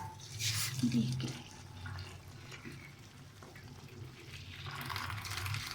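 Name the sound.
straining water from cooked lentils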